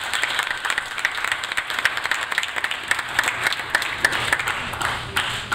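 An audience applauds a group of doctors at a ceremony honoring them, producing dense, continuous clapping at a fairly loud level that holds steady throughout, with no speech over it.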